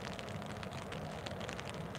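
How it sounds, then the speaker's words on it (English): Steady rain falls outdoors on a riverbank during catfishing, a dense, even patter of drops that stays constant and fairly quiet throughout, with no talking. "it is kind of starting to rain pretty good"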